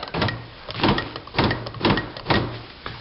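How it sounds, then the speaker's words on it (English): Power door lock actuators on a Honda Accord cycling repeatedly, a series of four or five sharp mechanical thunks and whirs at roughly even intervals, close and loud. "power locks work"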